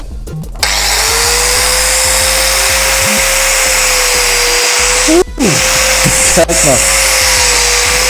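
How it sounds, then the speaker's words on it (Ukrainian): A loud, steady high-pitched whine of an angle grinder cutting into a phone casing, with a few brief interruptions and pitch shifts. "Перевіряємо корпус на міцність болгаркою."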